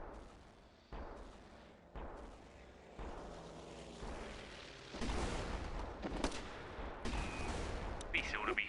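Gunfire in a video game comes as a series of booming shots roughly once a second, growing denser and louder toward the end with sharper bursts and a faint voice in the background.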